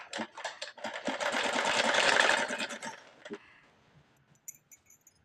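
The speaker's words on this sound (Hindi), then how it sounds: "सिलाई लगाएंगे, सारी बाजू पर सिलाई लगा कर दिखाएंगे।" A sewing machine stitches the sleeve onto a simple kurti, whirring loudly and steadily for about three seconds before stopping. A few faint clicks follow in near silence.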